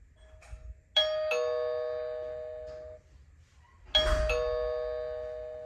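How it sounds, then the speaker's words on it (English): An indoor chime unit for a smart video doorbell rings twice, each a clear, close two-tone ding-dong whose notes ring out and fade, with quiet background between them. "apparently it's going to ring like a doorbell"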